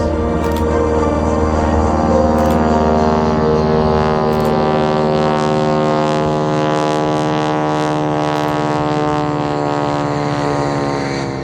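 A propeller airplane performing a wing-walking act at a regional airport airshow, its engine droning loud and steady throughout with a rich harmonic hum that slowly shifts pitch.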